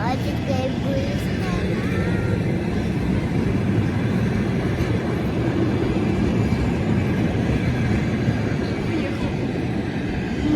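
A train passing nearby with a loud, steady rumble and rattling wheel noise that holds without break for about ten seconds.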